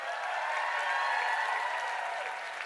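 A convention crowd claps steadily for a few seconds, a dense even patter at moderate distance.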